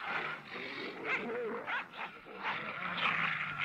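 A pack of wolves in an animated Japanese folk tale, barking and howling together at a courier up a tree, rough overlapping animal cries in a short, dense burst.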